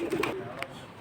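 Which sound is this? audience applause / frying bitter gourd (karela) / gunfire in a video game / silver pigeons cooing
silver pigeons cooing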